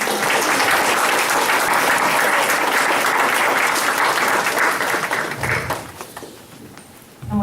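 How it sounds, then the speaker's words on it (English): Audience applause at a La Vernia ISD school board meeting in La Vernia, Texas, a dense, loud, sustained clapping from a crowd that thins and fades toward the end before a brief final burst. "Let's give them a round of applause."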